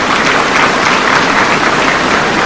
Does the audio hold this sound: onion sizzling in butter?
no